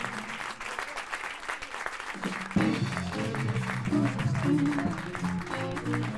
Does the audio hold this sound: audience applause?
yes